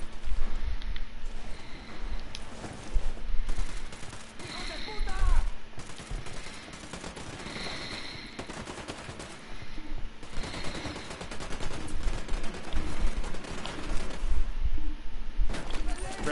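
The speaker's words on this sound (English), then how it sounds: "Opening fire on these fuckers." Gunfire in Ghost Recon Wildlands: sustained bursts of automatic fire and scattered shots crackle through a combat scene, with voices calling out over much of the shooting.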